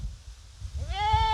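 A goat bleats once near the end, a loud, close, wavering cry over low background rumble.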